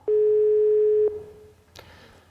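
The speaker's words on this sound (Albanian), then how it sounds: "le ta dëgjojmë të gjithë. Live drejt për së drejti, sinjalin telefonik." A telephone call signal tone plays live through a television studio's sound system, a single steady electronic beep holding for about a second before cutting off, followed by faint room noise and a brief click.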